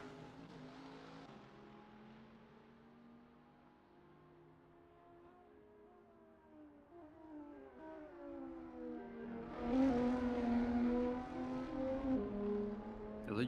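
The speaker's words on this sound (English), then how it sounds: "Is it just me, or these cars sound like they're screaming in agony?" GT3 race car engines in an eSports endurance racing game at the Nürburgring 24 Hours: high-pitched revving with rising and falling gear-change sweeps, one car louder and closer near the end over others in the background.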